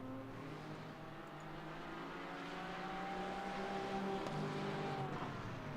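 A GT4 race car in a sim racing game brakes hard into the hairpin at the Nurburgring, a steady engine drone with shifting tonal whine that builds slightly in loudness, no talk.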